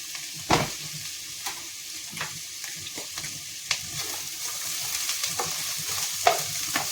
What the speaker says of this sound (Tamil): இதோட சேர்த்து நம்மகிட்ட இருந்த அந்த 3 பச்சை மிளகாய் அதையும் போட்டுக்கலாம். இதை போட்டுட்டு கொஞ்சம் நேரம் பார்த்தீங்கன்னா வதக்கணும்.